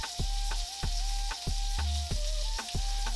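A Wagyu ribeye steak with rosemary sizzles steadily in a pan, the fry hiss constant and close, broken by a regular series of sharp clicks and a faint looping tone.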